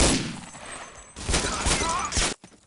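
Video game match gunfire, a rapid burst of loud, dense shots followed by a brief lull and then another sustained volley that cuts off abruptly near the end.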